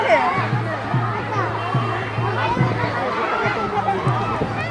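Busy murmur of a large crowd at a riverside Durga puja kalash yatra, many overlapping voices near and far forming a continuous loud hubbub.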